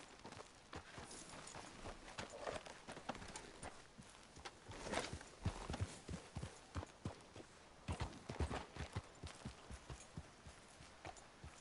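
Horse hooves clip-clopping in Red Dead Redemption 2, with an irregular, fairly close run of thuds that steadies into a repeated walking or trotting rhythm above a constant low background.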